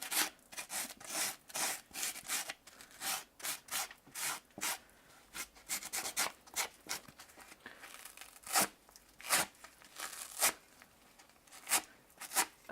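Rough fabric being scuffed and rubbed to weather a costume piece, a bobbled, worn look worked in by hand: a steady run of close, dry rasping strokes in quick irregular bursts, with no talk.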